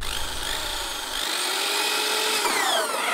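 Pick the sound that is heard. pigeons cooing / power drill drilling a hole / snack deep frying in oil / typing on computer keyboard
power drill drilling a hole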